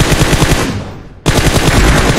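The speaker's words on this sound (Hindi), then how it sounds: "बहुत दूर से गोलियां आ रही हैं" Rapid bursts of automatic gunfire in a battle royale video game, loud and dense, briefly fading away before another sharp volley resumes abruptly.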